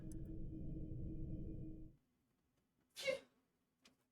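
A brief, sharp sneeze from the video game Disco Elysium bursts out after a steady low hum cuts to near silence, followed by a faint tick.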